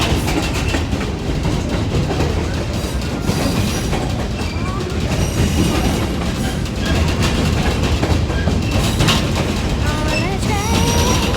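Stone Mountain excursion train rolling along the rails, a steady dense rumble with rhythmic clatter and occasional faint wheel squeal, heard close from on board, with some voices mixed in.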